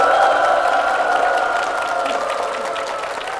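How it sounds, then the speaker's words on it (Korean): Church congregation applauds their pastor as he comes forward, a warm sustained wash of clapping with some cheering, steady and then tapering slightly, no one talking over it. "성도들의 박수가 참 뜨거운데요, 목사님."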